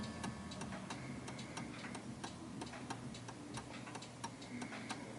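A 1930s oak-cased 8-day striking mantel clock ticks steadily but out of beat, off center to the right, its faint clicks sitting over a low background hum.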